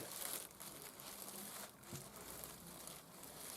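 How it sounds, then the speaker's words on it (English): A plastic bag crinkles steadily and close up as a toner cartridge part from a Philips PFA821 cartridge is bagged during a refill, with no talking. "I'm going to put this into plastic bag"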